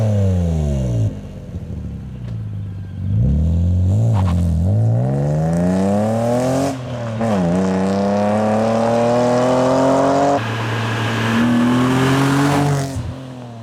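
A BMW Z3 M Coupe engine pulls hard through repeated gear changes while driving, each rising rev climb cut by a brief dip before the next, loud and close throughout.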